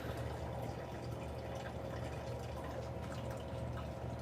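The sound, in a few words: water dripping and trickling into a container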